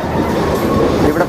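A train on the Visakhapatnam to Araku Valley line climbs a hillside after passing a tunnel, its carriages giving a steady, loud rumbling clatter heard from inside.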